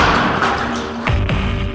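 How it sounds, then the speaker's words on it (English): A debris impact cannon fires a 2x4 into building material, with sharp thuds and cracks near the end of the clip over a steady mechanical background hum. "The debris impact cannon is also used to test building materials"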